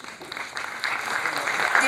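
Audience applause for students after an inter-school PowerPoint presentation competition, a brief burst of clapping that swells steadily, with a voice speaking over it.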